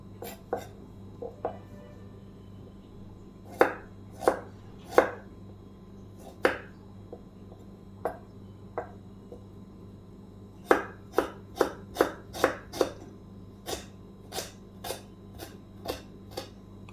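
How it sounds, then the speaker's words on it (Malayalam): A knife cuts ginger, green chili and garlic lengthwise on a cutting board, making crisp, close, irregular taps that come in scattered single strikes and then quicker runs, with no talking. "ഇതിനെയൊക്കെ നമുക്ക് നീളത്തിൽ കട്ട് ചെയ്തെടുക്കാം."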